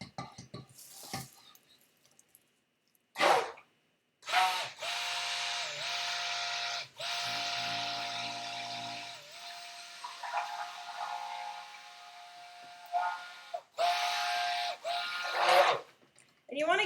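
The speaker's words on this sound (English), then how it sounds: "So I'm stirring it for just a little bit." A cherry soap mixture being stirred toward trace, heard as a steady buzzing whir that runs in several sustained bursts with short pauses between them, loud and close.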